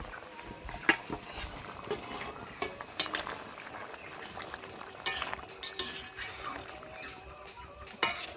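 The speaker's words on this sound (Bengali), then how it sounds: "এখন ভেজে রাখা মাছগুলো দিয়ে দেবো ওর মধ্যে" Fried fish pieces dropped into a pot of boiling gravy in a home kitchen, heard as soft clinks and scrapes of a utensil against the pot over a low bubbling background, with a few sharper knocks.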